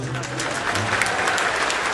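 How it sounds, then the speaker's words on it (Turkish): An audience breaks into loud, dense applause for a Turkish singer at a live event, steady clapping filling the full two seconds with a few voices mixed in. "Kocaman alkış."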